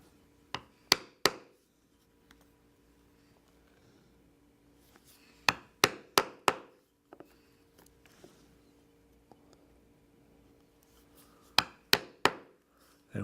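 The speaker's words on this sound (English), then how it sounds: "I will use the 4-prong thonging chisel and I will carefully punch on these lines" A 4-prong thonging chisel punches lacing holes through leather, struck in quick clusters of two to four sharp, close knocks. Near silence separates each cluster.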